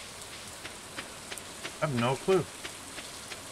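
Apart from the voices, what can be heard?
rain falling, from video game Stardew Valley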